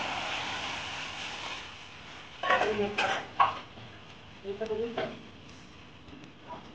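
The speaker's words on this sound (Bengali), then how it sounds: "এবারে ডালটা ওর মধ্যে ঢেলে দিন" Dried yellow peas tumble into a cooking pot in two short rattling, clattering pours, close and moderately loud against a soft background hum.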